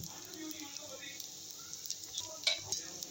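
Dosa batter frying in oil on a hot pan, giving a soft steady sizzle with faint crackles and a few small utensil clicks near the end, fairly quiet throughout.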